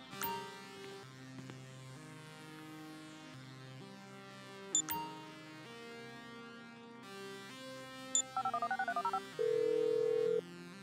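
In the video game GTA 5, a phone is dialed with a quick run of keypad tones followed by a steady tone, set over a sustained musical score and a couple of sharp hits.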